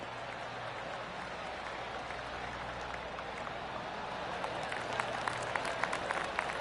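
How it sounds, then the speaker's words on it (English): Polite golf crowd applause in the PGA Tour 2K3 video game, a faint patter of clapping that swells toward the end over a low steady background hum. "Oh, golf clap."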